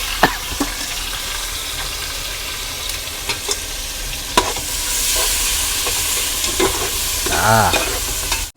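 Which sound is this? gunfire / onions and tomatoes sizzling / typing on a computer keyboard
onions and tomatoes sizzling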